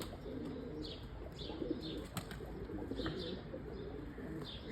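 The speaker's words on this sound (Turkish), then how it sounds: "Şöyle bir sizlere göstereyim dedim kümesimdeki eke kuşlarımı." Pigeons in a backyard coop giving soft, repeated cooing calls with a few light chirps and wing flutters, moderately close over a steady background hiss.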